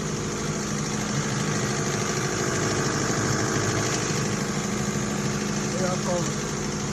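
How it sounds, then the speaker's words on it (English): A generator engine, just started, idles with a steady low drone and a constant vibrating hum that holds throughout. "You guys can see that the generator has started."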